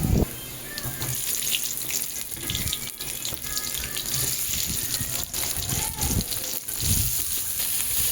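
Potatoes and pointed gourd coated in salt and turmeric fry in hot oil with a continuous close hiss and some watery splashing throughout, with no clear talk.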